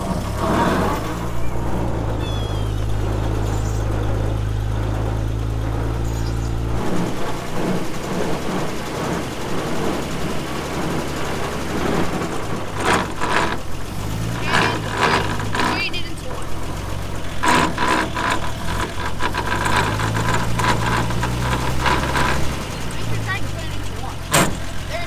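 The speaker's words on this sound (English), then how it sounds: "Good noisy transmission. Straight cut gears." A farm truck's straight-cut gear transmission whines and rumbles loudly and steadily alongside the running engine, with pitch shifts as it changes gear.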